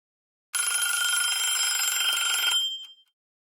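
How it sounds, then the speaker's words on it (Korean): Old telephone bell ringing inside a house, one continuous bright metallic ring of about two seconds that stops sharply, followed by a faint short ring-off and then silence. "전화벨 소리가 집안의 공기를 조금씩 바꾸는 것 같다."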